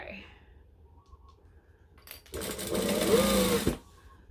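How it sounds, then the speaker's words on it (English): A sewing machine runs a short burst of top stitching and back stitching through fabric, close and fairly loud, starting after a quiet lead-in with faint background sounds and stopping abruptly. "I'm just going to top stitch it down. So we're going to stitch, back stitch."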